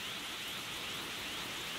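Rain pours down in a Dragon Ball anime fight scene as a dense, unbroken hiss that stays at an even level throughout, with no voices over it.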